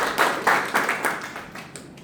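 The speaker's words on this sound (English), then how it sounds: "So a big round of applause" A small audience at a virtual club meeting claps in a handful of distinct, rhythmic bursts, loud at first and gradually fading over two seconds.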